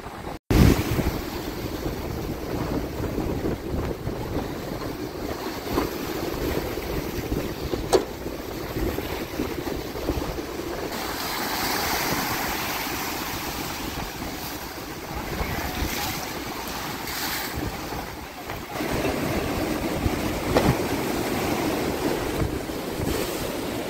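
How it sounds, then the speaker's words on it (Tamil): Sea waves surge onto the shore and push water inland during a coastal disaster, a steady loud roar of surf with heavy wind buffeting the microphone throughout, with no talking. "அந்த கடலுன்ற அலையை வந்து அடிக்குது, இஞ்சாலி பக்கம் எல்லாம் தண்ணி வருது."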